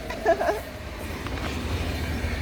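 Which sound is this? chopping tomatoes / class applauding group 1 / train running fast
train running fast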